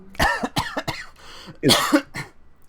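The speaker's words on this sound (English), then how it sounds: "I didn't know if that was a strategic cough" Several sharp coughs in quick succession, close and loud, with a short pause before a final harsh burst of coughing.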